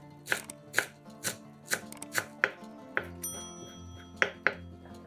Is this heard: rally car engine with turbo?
no